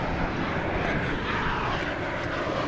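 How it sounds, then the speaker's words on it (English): A Boeing 737-800 airliner at DFW Airport gives off a steady, fairly distant jet engine roar that stays even throughout, with no voices heard. "flight from El Paso out in West Texas, 737-800"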